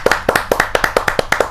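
A close, loud burst of rhythmic clapping from the audience at a Hindi humorous poetry gathering (kavi sammelan). The sharp claps come in quick, even pairs, with no talking underneath.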